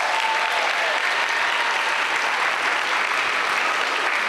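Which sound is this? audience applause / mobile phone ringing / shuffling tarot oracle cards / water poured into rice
audience applause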